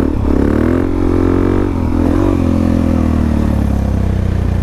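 Suzuki DRZ400SM motorcycle engine held at a steady throttle, a loud continuous droning hum with slight pitch wavering, close to the rider with constant wind noise and no talking.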